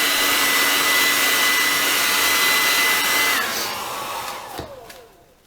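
A heat gun blows hot air onto the corner of a Samsung Galaxy Tab S5e tablet screen during an LCD replacement, a loud steady whooshing hum with a whine that drops as the gun winds down and cuts off near the end.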